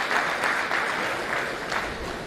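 Audience applause for a university Vice Chancellor at a lecture, a steady wash of clapping from a crowd with soft swells, fairly distant and continuous throughout.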